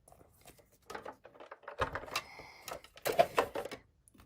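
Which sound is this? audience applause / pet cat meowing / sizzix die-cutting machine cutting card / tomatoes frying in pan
sizzix die-cutting machine cutting card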